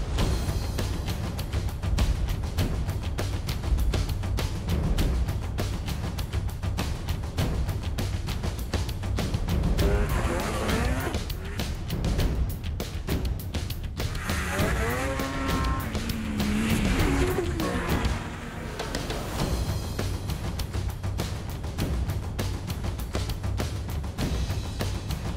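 2020 model year snowmobiles riding in West Yellowstone, Montana, engines droning loud and continuous with rising and falling revs as sleds pass close by, set under music.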